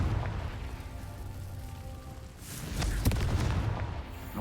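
A Confringo fire spell in the video game Hogwarts Legacy lets off a sharp, booming blast midway through, rising out of a low, muffled game background and trailing into a crackling rumble.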